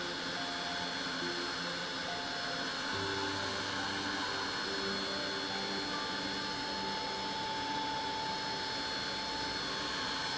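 A steady, loud blowing hum from a heat tool drying Distress Oxide ink on a papercraft background runs continuously, with a constant high whine and faint shifting tones underneath.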